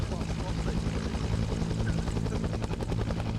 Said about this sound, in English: You are jumping out of this helicopter once we get the LZ.